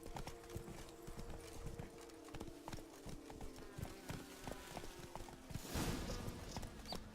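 Horse hooves clip-clopping steadily in The Witcher 3: Blood and Wine, a quick rhythmic beat close by over a continuous game ambience, with a brief louder burst near the end.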